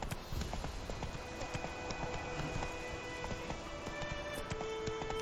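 Roach the horse gallops in The Witcher, quick rhythmic clip-clop hoofbeats pounding steadily and fairly close, with faint game ambience underneath and no talk.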